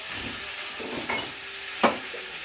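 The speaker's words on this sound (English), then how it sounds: "I'm going to brown a little more. I'm going to add a little more of the, butter." Chicken browning in plant-based butter in a pan, a soft steady sizzle with a few light scraping and clinking stirs from a utensil, close and fairly quiet, no talking.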